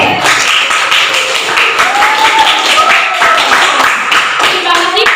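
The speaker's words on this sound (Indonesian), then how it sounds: "Oke, tepuk tangan untuk kelompok B." Classroom audience applauding a student group, a dense burst of many hands clapping continuously for several seconds, close and loud, with a few voices mixed in.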